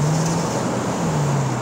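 A 1969 Pontiac Bonneville cruises at 50 mph, its engine holding a steady low hum under broad road and wind noise, close and continuous.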